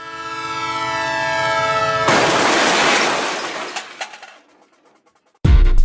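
A train passes with a steady horn blast and rolling rumble of wagons, loud and close, fading into quiet before an abrupt loud noise cuts in at the end.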